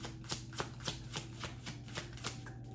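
Oracle cards are shuffled by hand in a quick, regular rhythm of soft riffling flicks, close and fairly quiet.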